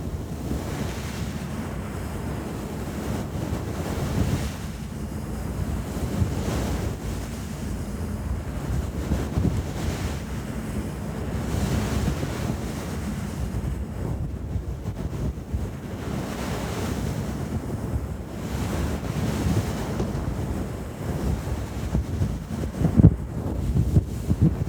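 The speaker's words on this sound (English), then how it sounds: "this is a mic cover for the Blue Yeti mic, and it's so fuzzy" A fuzzy cover on a Blue Yeti microphone is rubbed and shifted around right on the mic, producing a continuous close, muffled rushing rumble with soft swells and scratchy bursts and no voice.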